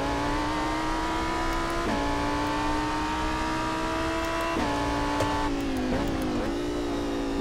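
A Porsche race car engine in rFactor 2 drones steadily at high revs, with several distinct gear shifts, the pitch dropping and climbing between changes, loud and close with no talking.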